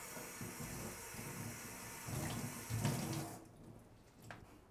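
A kitchen tap runs water onto a dish towel, a close, steady splashing gush that swells and then cuts off near the end.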